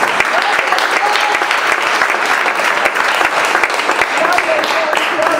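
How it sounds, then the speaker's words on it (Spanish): Pentecostal church congregation clapping loudly and continuously, a dense crackling wall of applause with a few voices calling out over it. "Dale fuerte las palmas al Señor."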